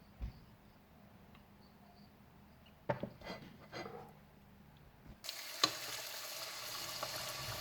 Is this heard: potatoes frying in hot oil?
yes